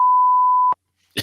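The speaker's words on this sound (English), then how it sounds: "You don't have to beep it, Tom." A single steady electronic bleep tone holds for most of a second, then cuts off sharply, followed by a brief faint noise burst.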